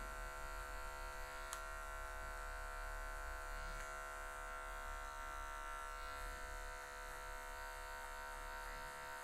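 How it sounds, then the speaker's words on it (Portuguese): Electric hair clipper trimming short afro hair with just the tip of the blade, a steady close buzzing hum that runs continuously with slight variations as it touches the hair. "Você vai usar só a quininha da maquininha assim, ó."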